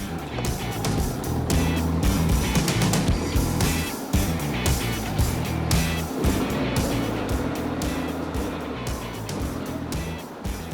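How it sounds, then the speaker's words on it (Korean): A Honda X-ADV scooter-style motorcycle in DCT mode rides through central Seoul, its engine droning loudly and continuously up close with wind and passing traffic around it. "오랜만에 바이크를 타고 이렇게 서울 도심을 달리고 있습니다."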